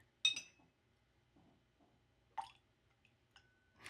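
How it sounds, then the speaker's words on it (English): A few small drips and clinks sound as water is added to a glass of Port Charlotte 10 Islay whisky, three brief close splashes separated by near silence. "So I'm going to add some water to this."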